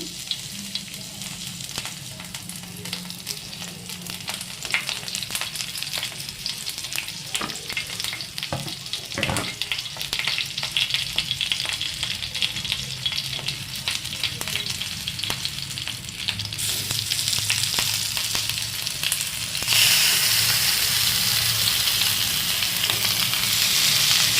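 Black pomfret fish frying in a pan, a steady close sizzle and crackle with occasional stirring scrapes, growing louder and brighter toward the end, no voices.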